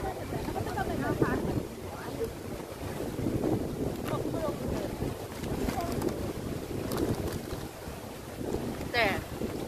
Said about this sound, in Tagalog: Hangin ngayon na.